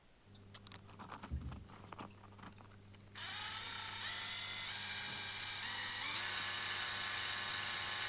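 A small drill bores into a Matchbox Lesney #64 MG 1100 die-cast model car: faint ticking and handling at first, then a steady high whine of the bit grinding into the metal, close and continuous to the end.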